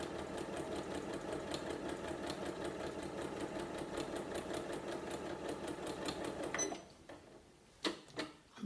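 A sewing machine stitches a fabric table mat with a fast, steady mechanical whir and regular needle clatter up close, then stops abruptly, leaving a few soft handling clicks and thumps.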